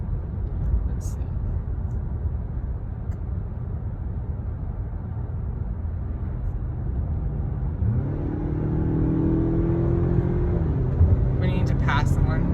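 Mazda 6 Grand Touring accelerating to pass another car on the road: a steady rumbling cabin drone whose engine note climbs and swells in pitch midway, heard from inside the car.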